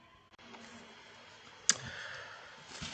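A single sharp, close click as a finger taps the AI Master App Designer app icon on a phone, heard alone against a quiet, faintly hissing background.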